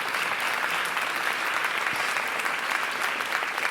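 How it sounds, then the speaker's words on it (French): A plenary audience gives sustained, dense applause to welcome Laurent Berger, secretary general of the CFDT union, onto the stage; the clapping is loud, even and continuous. "On peut l'applaudir."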